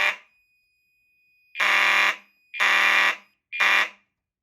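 A building fire alarm system sounding during a panel test, three loud horn bursts about a second apart after a brief opening tone, each cutting off cleanly into silence, with no talk.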